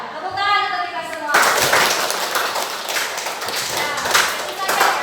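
After a brief spoken line, a group of participants at the close of a teachers' literacy session bursts into lively hand clapping, sustained and near for the rest of the moment.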